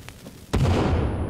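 Dynamite goes off in the survival video game The Forest: a sudden loud blast cuts in after a quiet moment and rolls on as a heavy, sustained boom.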